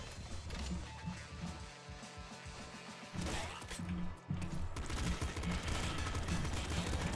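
Rapid bursts of pop gun fire in the video game Nuclear Throne, dense clattering shots layered over game music, with a brief dip in the middle before the shooting resumes and continues loudly.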